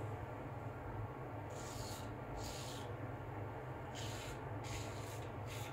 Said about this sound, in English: Let's get to shaving here. Full hollow Ralf Aust 6/8.